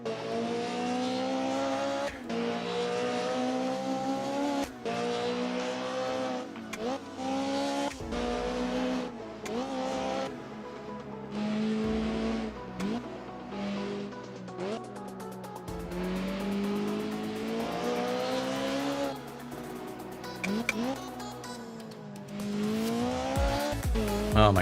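Toyota Prius with a CVT transmission driving in the racing game Assetto Corsa, its engine tone droning and sweeping up and down with tire squeal as the back end kicks out, loud and continuous with some background talk.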